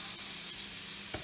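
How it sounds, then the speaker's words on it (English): Onions and garlic sizzle in hot oil in a pan, a steady close crackling hiss with a small clatter near the end and no talking. "let the heat get into that and get that sizzling"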